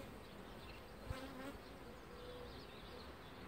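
Honeybees buzz steadily around open hive frames while a colony is being split, a close, continuous insect drone with no talking.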